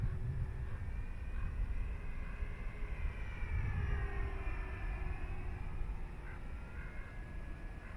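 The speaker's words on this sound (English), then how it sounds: "Love flying this plane" A BlitzRCworks T28 RC model airplane (1.1 m) flies on a windy day, its small electric motor a thin, wavering whine rising and falling at a distance over steady wind rumble.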